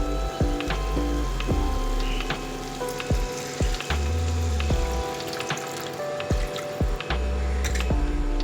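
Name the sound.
hot water being poured into Bengali mouri katla masala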